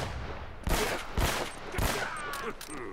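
Gunfire from the video game Uncharted: Drake's Fortune, with about three sharp, loud shots spaced across a few seconds over a steady background of game ambience.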